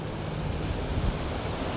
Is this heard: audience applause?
no